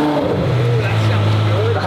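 A car engine revs hard and holds a high, steady drone for about two seconds, loud and close, with voices talking over it.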